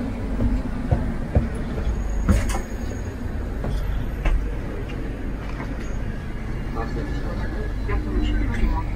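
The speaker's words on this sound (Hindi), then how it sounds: "मैं ट्रेन में बैठ चुका हूँ और ये ट्रेन बाउंड है मोनाको के लिए" Interior of a passenger train bound for Monaco, a continuous low rumble of wheels and carriage with occasional rattles and clanks, faint voices murmuring in the background.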